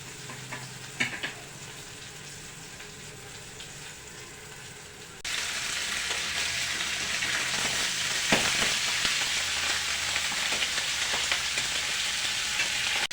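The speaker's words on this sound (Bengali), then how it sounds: "তেল ছিটকাচ্ছে মাছের" Fish fries in hot oil, first as a quieter sizzle and then as a loud, dense, crackling spatter of oil that runs on steadily, close by and with no talk.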